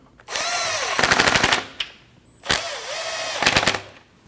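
Two bursts of a power tool driving the 8mm bolts on the AC condenser of a 2013-2019 Ford Escape 1.5L, each a whirring spin-up ending in a rapid rattling impact chatter, loud and close with no talk.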